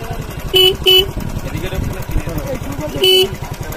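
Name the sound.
motorcycle driving past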